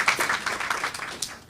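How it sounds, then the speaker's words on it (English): Audience members at a press conference give a short burst of scattered hand clapping, fairly faint and brief. "Encourage her and give her a round of applause again"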